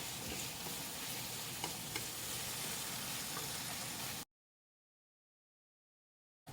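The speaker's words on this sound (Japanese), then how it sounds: "これにだし醤油を 絡めて、" Pork stir-fried with plum jam and dashi soy sauce, a steady close sizzle with stirring scrapes for about four seconds before cutting to silence.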